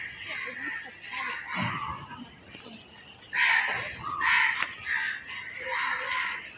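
A crow caws near a horse in a village, its harsh calls rising over outdoor background noise, with people talking.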